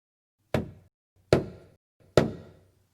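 Three firm knocks on a door, evenly spaced and close, each with a short hollow ring, with silence between them.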